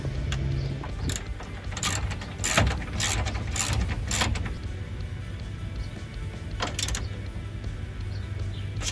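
A ratchet wrench turns a 10mm bolt while mounting a light bar on a Ford F150, a series of quick clicking ratchet bursts in short runs with pauses, close over a low steady background hum.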